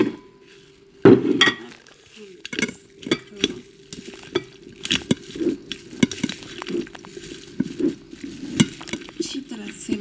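Russian salad being mixed in a bowl with a spoon, an irregular run of close clinks, scrapes and soft wet squelches, loud and continuous with no one talking.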